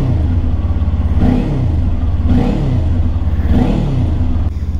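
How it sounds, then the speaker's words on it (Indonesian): A Kawasaki Ninja 400 motorcycle idles steadily while warming up on a cold morning, with a loud, close, continuous engine rumble and a few periodic swells in revs. "sebelum bepergian pasti gua manasin motor dulu kalau lagi dingin kayak gini ya"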